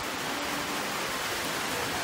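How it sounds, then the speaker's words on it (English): Heavy rain pours down during a picnic at a resort in Mbarara, a dense and steady hiss with no break and no voices. "Oh boy, it is terribly raining."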